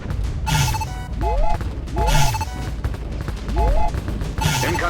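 Video game Shadow Strike combat: bursts of heavy gunfire and booming explosions repeat about once a second, loud and close, with whooshing sweeps and beeping tones layered over a constant rumbling bed.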